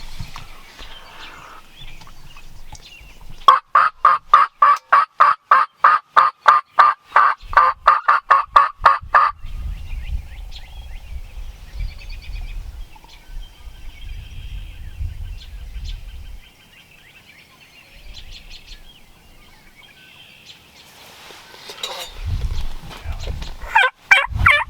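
Wild turkey gobbling during a Nebraska spring season, a rapid burst of rattling gobble notes coming from far off, followed by low rustling and movement sounds with no talk.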